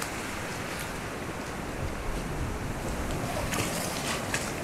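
Sea surf washes continuously at Kata Beach in Phuket, Thailand, a soft broadband rush with gentle swells and some wind buffeting on the microphone, no voices present.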